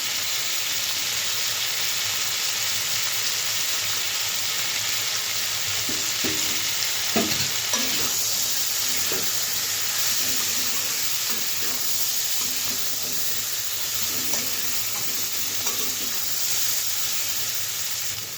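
Turmeric powder and a little sugar fry in hot oil while being stirred, a loud continuous sizzle with bursts of scraping and clinking from a spoon in the middle stretch, close-up and with no talking.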